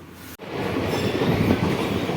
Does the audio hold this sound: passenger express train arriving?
yes